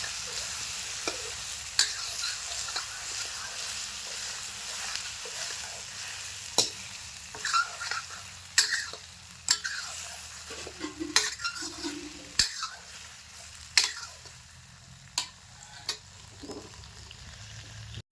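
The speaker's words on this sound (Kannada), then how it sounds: "ಎಣ್ಣೆ ಒಳಗೆ ಬದ್ನಿಕಾಯಿ ಎಲ್ಲಿ ತನಕ ಫ್ರೈ ಮಾಡ್ಬೇಕಂದ್ರೆ ಕಲರ್ ಎಲ್ಲ ಒಂದು ಸ್ವಲ್ಪ ಚೇಂಜ್ ಆಗ್ತಾವ್ರಿ" Halved eggplant pieces fry in hot oil with a quiet, steady sizzle, punctuated by sharp clinks and taps of a metal utensil against the pan at irregular intervals; no one speaks.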